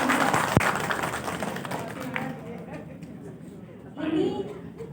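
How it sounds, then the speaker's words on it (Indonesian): Audience at a community women's-rights activity event in Central Java applauding the men among the participants, a broad wash of clapping and crowd murmur that fades after two seconds and swells briefly again near the end. "Aplaus dong buat bapak-bapak."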